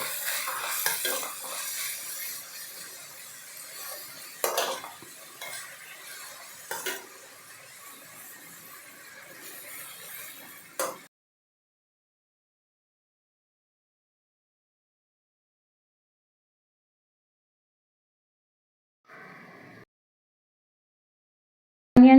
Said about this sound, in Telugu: ఆయిల్ బాగా హీట్ అయిన తర్వాత సన్నగా తరిగిన 2 ఆనియన్స్, అవి బాగా ఫ్రై అయ్యేదాకా ఉంచాలి